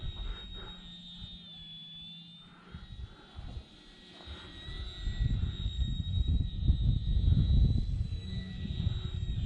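An old Hacker XL Zoom model airplane with warped wings flies overhead, its electric motor a steady high whine that fades and returns as it passes, with a low rumble of wind or handling noise building toward the end.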